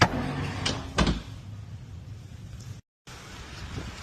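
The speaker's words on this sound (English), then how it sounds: "Let's open this door. And what is it gonna do? Hit the door?" A door swings open inside a newly built house and knocks against its frame, giving two quick wooden thuds near the start, then a brief dropout and a quiet room.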